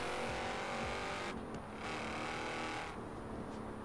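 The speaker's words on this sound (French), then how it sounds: "On dirait le son de la Panamera," A Porsche Panamera-like car engine in Forza Horizon 4 hums steadily at moderate pitch with a faint whine, sounding low and distant, with no talk over it.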